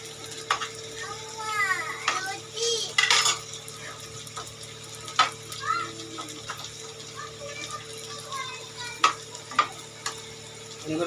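Stirring and frying sounds from a home kitchen pot as oil and spices go into dal, with scraping clinks and a bright sizzle burst near the start, steady low hum underneath and no talk.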